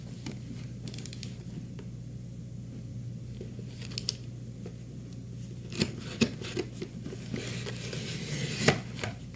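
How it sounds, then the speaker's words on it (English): Someone cuts the top off a package in a quiet room: a scatter of soft snips and crinkly rustles, growing a little busier and sharper toward the end. "I'm going to cut the top off."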